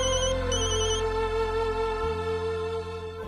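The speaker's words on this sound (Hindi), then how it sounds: "मानव मेरा फोन क्यों नहीं उठा रहे?" A telephone rings unanswered in an indoor Hindi TV drama scene, a repeating electronic ringtone pattern heard fairly clearly over a low musical background.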